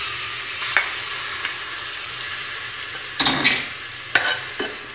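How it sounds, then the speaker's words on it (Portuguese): Pasta frying in a pressure cooker pot over a wood-burning stove, a constant hiss of sizzling oil broken by several scraping stirs against the metal, close and steady. "E aqui é só mexer, deixar fritar"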